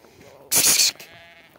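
A single loud sheep bleat, short and nasal, rises sharply from a quiet background and fades within a second.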